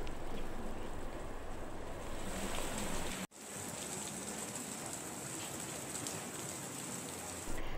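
Light rain falls steadily over Ambaji in Gujarat, a constant soft hiss of drops that breaks off briefly once and then carries on.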